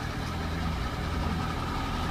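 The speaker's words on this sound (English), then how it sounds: "Trying to ignore the diesel noise in the background with all the construction." Diesel construction machinery runs somewhere nearby as a steady, low, rumbling engine drone. It stays even and continuous without pause through the short stretch.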